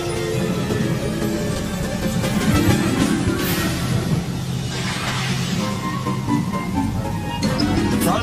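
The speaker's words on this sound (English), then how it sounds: "Rain pounded the earth." Heavy rain pounding the ground in a thunderstorm, a dense, continuous loud hiss of drops with some rumbling underneath, steady from start to end.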